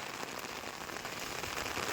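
Heavy rain from Cyclone Michaung pours down steadily, a dense, continuous hiss of drops striking surfaces close by, with no voices.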